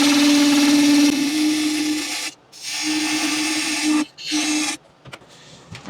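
A small wooden goblet made from firewood is sanded on a spinning lathe, giving a loud steady whirring drone with a sustained hum that stops briefly twice, then cuts off near the end.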